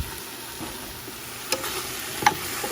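Ribs frying in a pan with salt and tamarind soup mix are stirred, giving a steady low sizzle with a few soft utensil scrapes and taps, the loudest around the middle and near the end.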